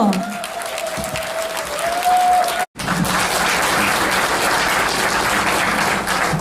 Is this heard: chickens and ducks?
no